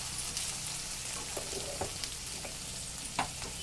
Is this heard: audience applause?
no